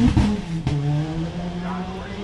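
An Evo-powered Mitsubishi Mirage rally car idles and blips its engine at the start line of a rally sprint at Ashley Forest, a burbling exhaust note with a brief rev near the start and steady hum after.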